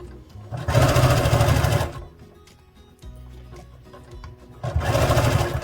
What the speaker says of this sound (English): I'm going to make sure that I'm sewing just on the inside of that stitching